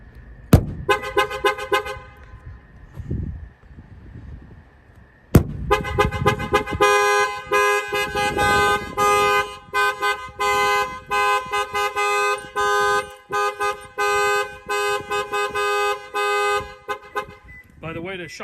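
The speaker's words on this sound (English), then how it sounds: "If anybody bangs on the window, it will trip the alarm system." A 2021 Toyota 4Runner's added alarm blares nearby in loud repeating tones and horn-like bursts, cycling through patterns after a couple of sharp chirps at the start.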